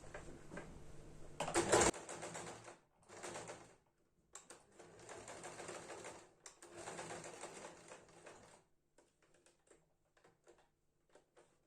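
Sewing machine stitching a fabric hair scrunchie, with bursts of rapid mechanical whirring that stop and start, one louder burst near the start, then quieter pauses and faint handling clicks toward the end.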